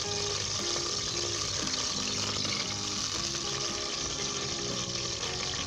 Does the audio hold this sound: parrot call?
no